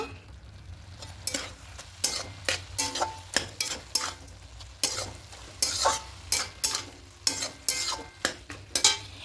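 Fried eggplant and greens are stirred in a pan over a low background sizzle, with repeated close spatula scrapes and clinks against the pan in an irregular rhythm.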